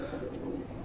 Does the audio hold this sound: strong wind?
no